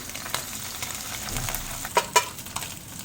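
Soya chaap pieces fry in hot oil in a home pan, a moderate, steady sizzle with a few sharp spatters and utensil clinks scattered through, no voices.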